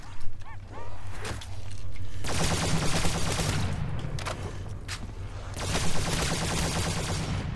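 AN-94 rifle firing in a Minecraft zombies game mode, long bursts of rapid automatic shots after a few mechanical clicks at the start, loud and close, with brief gaps between bursts.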